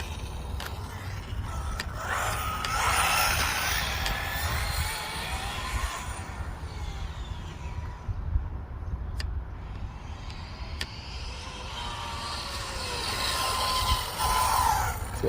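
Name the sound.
Arrma Typhon 6S RC car driving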